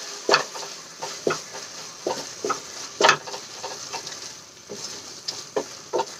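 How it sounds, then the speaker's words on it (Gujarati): Maggi noodles cooked with tomato and masala being stirred in a pan, a steady series of soft scraping, sticky stirring strokes over a faint background sizzle, close and fairly quiet. "મસાલો એડ કરીને આપણે સરસ રીતે એને મિક્સ કરી લઈશું"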